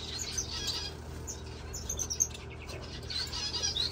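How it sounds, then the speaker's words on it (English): Society finches being fostered give faint, high, scattered chirps and tweets, with small clusters of calls near the start, middle and end over a soft background hum. "We are fostering society finches."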